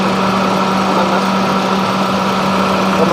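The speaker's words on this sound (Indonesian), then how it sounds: "Kompresor AC ini kok bunyi ya mas?" A 2011 Toyota Avanza S with a manual gearbox idles with its air-conditioning compressor running, a steady, close engine drone with a constant low hum and faint mechanical whine, no voices.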